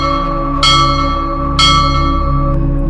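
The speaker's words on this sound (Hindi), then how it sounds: "जेल के टावर पर लगा एक बहुत बड़ा घंटा 3 बार" A very large bell in a jail tower tolls with two heavy strikes about a second apart, each ringing out in a long sustained hum that lingers beneath the next blow.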